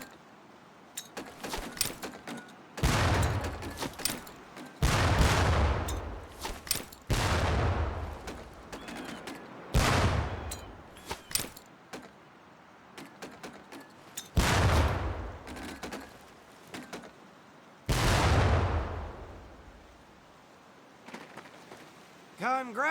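Training grenades exploding near barrels at a boot camp range in Medal of Honor: Pacific Assault, about six separate thudding blasts spaced several seconds apart, with lighter clatter and a voice in between.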